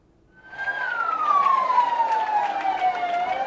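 An ambulance siren wails loudly and close, rising in after a brief quiet start into a sustained tone that slowly glides downward, as at the handover of a newly allocated constituency ambulance at the refurbished Ussher polyclinic in Ghana.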